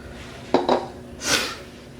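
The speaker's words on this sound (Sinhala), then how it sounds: "බ්ලෙන්ඩ් කරන්නේ නැතුව අපි මේක පොඩ්ඩක් කලවම් කරලා මේකට දානවා." Coconut pudding mixture stirred in a bowl gives two quick clinks of a utensil against the dish, then a short soft scrape, close and alone.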